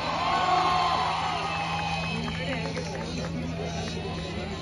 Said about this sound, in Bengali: এদের জন্য আরেকটা জোরে হাততালি